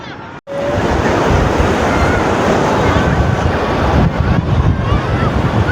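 Loud, continuous surf roars close by on the beach at Diveagar, with heavy wind buffeting the microphone, the crash of waves blending into a dense wash of noise.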